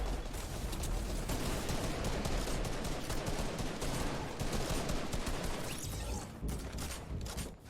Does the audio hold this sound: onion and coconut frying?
no